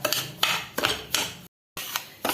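Rava (semolina) roasting in ghee, stirred in a pan with a metal spoon that scrapes and clinks against it in a steady rhythm of close, bright strokes, with a brief silent gap partway through.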